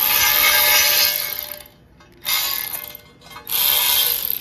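A ratchet wrench snugging a badly rusted bolt, loud fast clicking in three bursts separated by short pauses, close up, with no speech.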